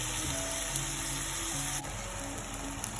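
Leeks soften in a hot pan with a constant close sizzle and crackle, a faint stirring scrape partway through, no voices.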